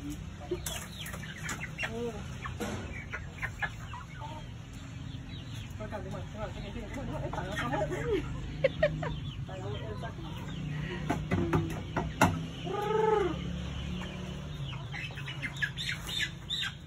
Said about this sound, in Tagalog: Hinuhuli niya po yung isang manok.